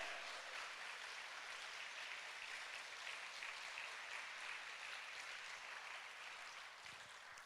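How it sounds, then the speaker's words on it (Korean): Steady, dense clapping from a church congregation at a Wednesday evening Spirit-filled worship meeting, a continuous wash of hand claps with a broad, even level and no voices clearly standing out. "우리 주님께 다시 한번 감사와 찬양과 영광의 박수 올려드립니다"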